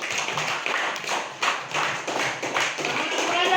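Classroom applause: a burst of uneven hand clapping from a group of students, close and lively, with voices mixed in.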